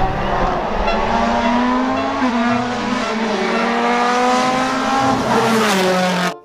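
Toy race car giving off a loud, close, continuous electronic engine whine that rises and slides in pitch like revving and skidding, with no talk over it.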